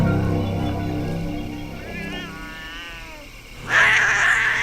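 Cats meow and yowl outdoors in an island village alley, a wavering cry rising then fading, followed by a louder harsh caterwaul near the end.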